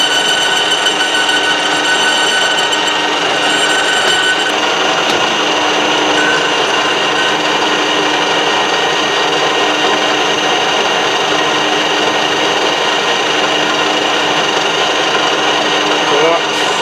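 Lathe taking a light clean-up pass on a motorcycle wheel arbour, a steady broadband grinding hiss and whine running continuously and loudly throughout, with no clear pauses.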